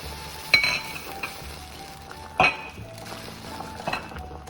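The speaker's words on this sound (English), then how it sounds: "So open the lid." Metal lid and pot clinks ring out in a home kitchen as a boiling pot is opened while cooking Korean New Year's soup, with two or three sharp, close clanks over a quiet background.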